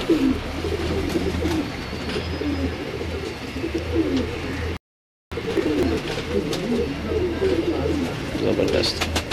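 Pigeons coo repeatedly on a rooftop loft in Lahore, the soft throaty calls rolling close and overlapping through the full stretch, broken once by a brief silent gap.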